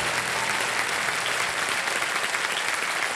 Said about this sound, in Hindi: तालियां बज जाएं के लिए।